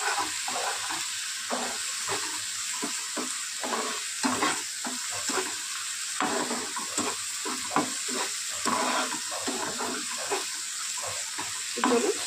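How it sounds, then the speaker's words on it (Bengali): Prawns in poppy seed masala stir-fried in a pan, a steady close sizzle broken by regular scraping strokes of a spatula, moderately quiet and without voices. "তেল ছাড়া যাওয়া অবধি কষিয়ে নিয়ে আর মশলা থেকে তেল রিলিজ করে দিয়েছে"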